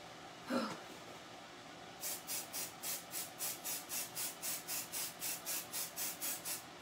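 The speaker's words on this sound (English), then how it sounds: "I'm going to, again, spray it off camera." Aerosol spray paint from a can, sprayed through a small stencil to make white snowflake designs: around seventeen short, even hissing bursts in a steady rhythm, close and faint, after a single brief sound near the start.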